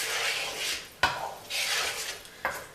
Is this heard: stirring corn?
yes